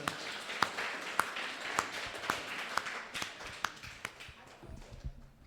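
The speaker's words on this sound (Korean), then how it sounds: "큰 박수로 우리 친구들" Quiet, evenly spaced rhythmic clapping from a church audience follows a children's Sunday school performance, with soft room noise around the beats.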